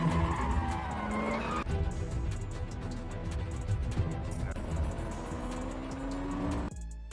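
A car drives on the road, its engine hum and tire noise steady and fairly close, with a pitch rise midway and an abrupt shift near the end, under film music and effects.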